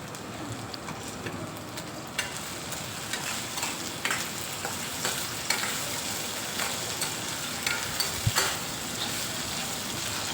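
Onions, green chilies and potatoes sauté in a hot pan with a steady, close sizzle and occasional stirring scrapes that run unbroken and without talk.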